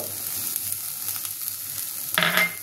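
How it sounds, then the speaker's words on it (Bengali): Chopped green chillies frying with onions in oil for a dal fry, a steady soft sizzle followed by a louder burst near the end as more goes into the pan. "এর মধ্যে আমি দিয়ে দেবো কাঁচা লঙ্কা কুচিটা, সবটা দিয়ে দেবো।"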